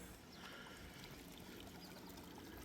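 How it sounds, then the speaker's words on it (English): A small, clear mountain stream flowing under a little bridge in the Great Smoky Mountains near Gatlinburg, giving a steady, soft, continuous rush of water with no breaks. "listen to the little stream going through the mountains"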